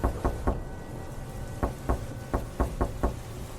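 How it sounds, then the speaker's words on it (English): Hard pounding knocks on a wooden front door at night, heavy blows in uneven groups of two and three, loud and close over a low rumbling background. "Someone was pounding on her wooden front door hard enough to shake the walls."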